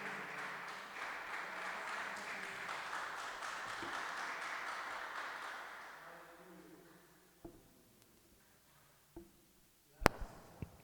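Church congregation clapping during a Sunday celebration service, a broad steady wash of applause for about six seconds that fades out, followed by a few scattered sharp knocks.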